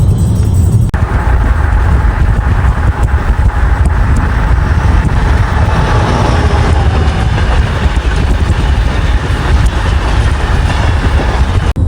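A car cruises along a road with a steady, loud roar of tyre and wind noise that fills the cabin continuously, with no talking.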